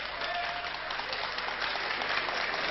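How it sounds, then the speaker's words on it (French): A crowd applauds Charlie Chaplin's arrival at the 1971 Cannes Film Festival, a continuous, dense clapping that sounds somewhat distant and muffled, like an older recording. "J'entends les applaudissements qui saluent l'arrivée de M. Chaplin"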